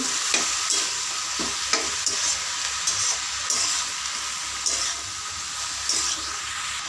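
Cabbage frying in a pan with salt and turmeric, a steady loud sizzle broken by repeated scraping stir strokes at a roughly regular pace.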